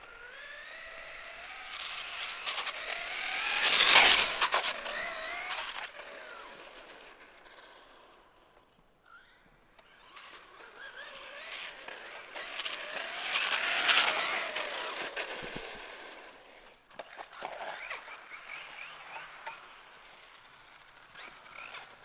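A Traxxas Stampede RC truck running on a 3S battery sends out a high electric motor whine that surges into two loud passes, fading down between them, with scattered rattles toward the end and no talk.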